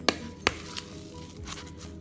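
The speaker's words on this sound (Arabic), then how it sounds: "غنخلط جميع المكونات اللي عندي" Croquette ingredients are mixed in a bowl, with two sharp knocks of a utensil against the bowl early on, then quieter scraping and soft thuds.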